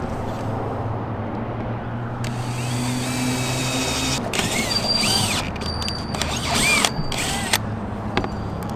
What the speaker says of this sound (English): And I guess I'm just going to drill it.